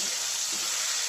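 Tomato and salt mixture frying in a pan for palak badi sabzi, a loud close continuous sizzle with a couple of soft stirring scrapes and no talking.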